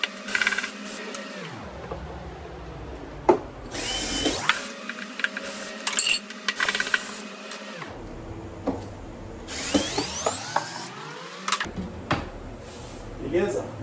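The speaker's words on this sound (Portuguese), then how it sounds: "a gente vai utilizar uma parafusadeira para soltar isso aqui" Electric screwdriver loosening a panel lock, whirring in several bursts that rise and fall in pitch, close and fairly loud, with clicks and handling knocks between the runs and someone talking throughout.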